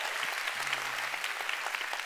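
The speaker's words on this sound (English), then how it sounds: "Come on, let's give the Lord a big clap." Congregation clapping during a church sermon, a steady, dense patter of hands from a crowd with a brief cheer or voice partway through.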